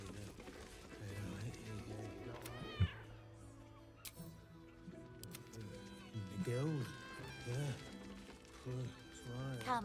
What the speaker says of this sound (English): Kira the cat.